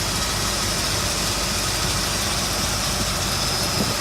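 A Ford Bronco's original factory 400 V8 idles with a steady, even rumble, heard up close and continuously without any change in pitch or any talking.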